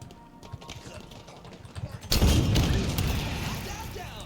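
A rocket bursts with a sudden loud blast partway through, then a sustained rough roar and crackle that slowly fades, after a quieter stretch of outdoor rustling.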